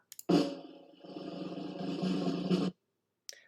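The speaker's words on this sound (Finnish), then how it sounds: "Rumpujen pärinää" A drum roll sound effect from a Canva presentation rumbles as a dense, sustained roll lasting a couple of seconds, preceded by a couple of quick taps and ending abruptly.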